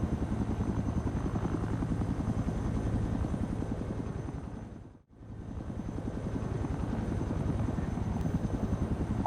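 Helicopter in the video game Project Reality flying steadily with a loud, continuous rotor thump and engine drone, briefly dipping to a near-silent gap midway before resuming at full strength.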